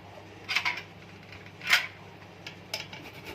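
Carrots are rubbed against a grater in short, faint scraping strokes, a few separate rasps spaced over a quiet background.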